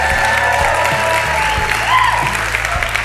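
A rowdy live theatre audience at a community theatre in Fairfield, Connecticut applauds loudly and steadily, dense clapping filling the room while a voice talks faintly underneath.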